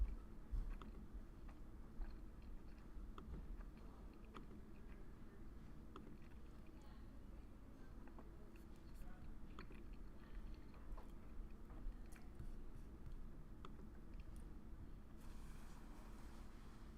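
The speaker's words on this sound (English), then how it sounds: "I'm taking my lunch, so I apologize if you hear my chewing sound." Someone chewing lunch near the microphone during a stock market live stream, producing continuous soft mouth and biting noises over a steady low hum with no talking.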